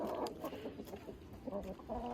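Recently revaccinated farmyard hens and roosters clucking close by, a quiet, irregular run of short clucks and murmurs from several birds with no talk over them.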